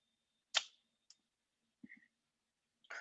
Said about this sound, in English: It's a few mouse clicks.